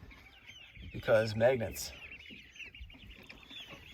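Chickens in a backyard coop cluck in a short burst of a few close calls, then fade, under a person's quiet speech.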